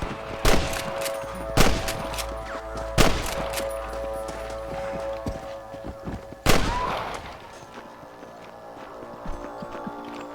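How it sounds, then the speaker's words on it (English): Four sharp gunshot cracks in Red Dead Redemption ring out at uneven intervals, the last one heaviest, over a steady game-like ambient background with tonal music. "I can hear more gunshots."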